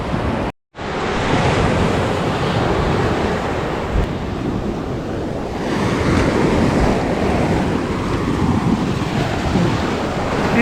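Sea waves break and wash steadily onto the beach at Kayalpattinam, a continuous broadband surf roar with wind buffeting the microphone and a brief dropout near the start.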